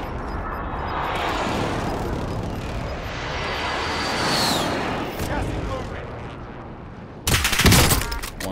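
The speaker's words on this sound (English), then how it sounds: "I'm shooting him through the wall" Gunfire in the Call of Duty Modern Warfare video game, a sustained roar of shooting and battle noise, loud and close, with a sharp burst of rapid shots near the end.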